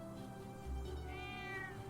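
A cat meows once in the video game Trails of Cold Steel, a drawn-out, rising and falling meow over a quiet, steady game background hum, with no talking.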